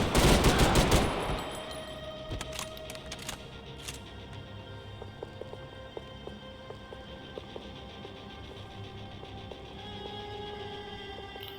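Heavy weapon gunfire in Max Payne 3, opening with a loud rapid burst of automatic fire, then scattered single shots and distant cracks over a lingering rumble.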